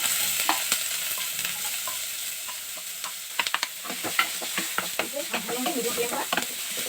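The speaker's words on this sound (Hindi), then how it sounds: "अब जो हमारा प्याज है पहले उसे डालेंगे।" Onions fry in a small amount of hot oil, giving a continuous close sizzle with repeated scraping and tapping of a spoon as they are stirred, and no speech.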